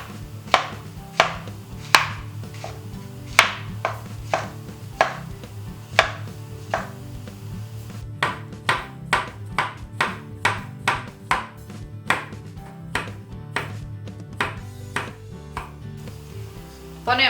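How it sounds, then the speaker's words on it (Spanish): A knife chops garlic finely and slices mushrooms on a board for eggplant tartlets, giving a steady series of sharp, close knocks that quicken into a faster run midway, with no talking. "Picamos el ajo finito. Fileteamos los champiñones."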